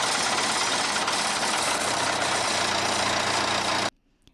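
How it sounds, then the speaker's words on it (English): A farm tractor engine runs loud and steady with a rough, knocking idle and heavy low vibration, then cuts off abruptly near the end, leaving near silence. "Back he came on the tractor."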